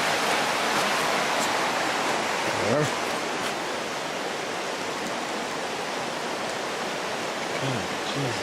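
Floodwater rushes along a roadside turned river during the April 2019 flooding in Kazabazua, Quebec, a loud, continuous close-up roar with a brief spoken word over it.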